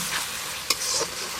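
Spice paste seasoned with salt frying and being stirred in a pan for a Bengali fish curry, a steady close sizzle with a brief scrape of the spoon.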